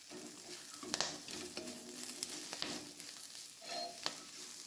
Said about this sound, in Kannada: ಫ್ರೈ ಮಾಡುವ.